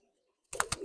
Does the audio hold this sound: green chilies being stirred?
no